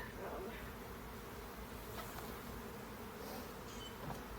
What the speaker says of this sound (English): A lot of bees down here